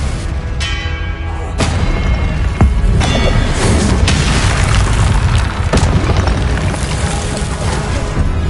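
A loud, booming Confringo fire spell explodes in the PS5 game Hogwarts Legacy, with deep rumbling blasts, bright ringing bursts and crackling magical effects layered over one another for several seconds.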